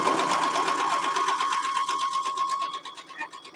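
A home sewing machine runs steadily at close range while stitching quilt pieces, a continuous whirring hum that slows and stutters near the end, with no voices heard.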